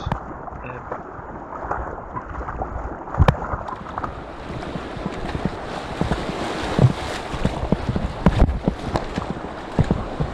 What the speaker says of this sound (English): we're just paddling through some waves because the river has filled up